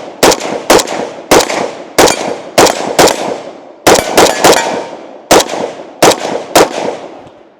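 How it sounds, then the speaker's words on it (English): A Zastava M92 AK-pattern rifle in 7.62x39 fired outdoors in about fifteen sharp, loud, close shots, mostly single spaced shots with a few quick doubles and triples, each one cracking and then ringing out in a short decaying tail. "Let's go ahead and take our first few shots with the firearm."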